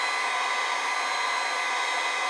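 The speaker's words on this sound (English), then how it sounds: "we can take a hair dryer or a heat gun in this example here" Steady, loud rush of blowing hot air from a heat gun heating a ribbon cable on a Motorola MTS2000 radio display, a constant hiss with no pauses or voices.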